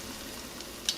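Tortilla crisping in a hot pan for bean and chorizo tacos with queso fresco, a faint steady sizzle with one brief louder crackle near the end, no talking.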